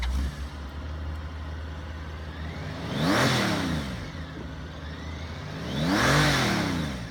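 A 2003 Honda Gold Wing 1800 luxury touring motorcycle idles steadily nearby with a low, smooth engine hum, rising in two throttle blips that briefly swell and fall back to idle.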